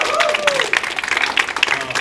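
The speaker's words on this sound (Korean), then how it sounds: "여기까지 박수 부탁드리고요." Applause and clapping from a crowd at a Korean rap battle, dense and steady throughout, with a voice tone gliding briefly over it.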